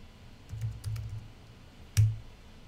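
A few sparse, soft keystrokes on a computer keyboard, then one louder clack near the end, quiet and close with no talking.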